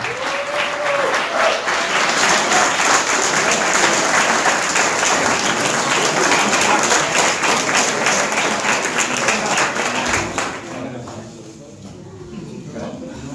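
A band contest crowd applauds a band, loud sustained clapping and cheering that fades out toward the end, with a voice audible over it.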